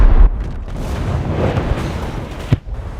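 A naval gun fires in War Thunder, a heavy low boom rolling and rumbling for a few seconds, followed by a sharp distant report near the end.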